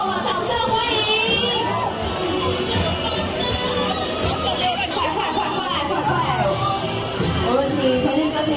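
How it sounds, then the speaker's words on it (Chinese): A film premiere audience in a dense, loud roar of crowd noise, with cheering, shouts and excited chatter all blending together continuously. "掌声欢迎！"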